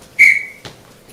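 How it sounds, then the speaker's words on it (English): A referee whistle is blown once at an improv comedy show, a sharp loud shrill blast lasting about half a second, followed by a faint thump, with no talking. "when I blow the whistle at the end of the scene"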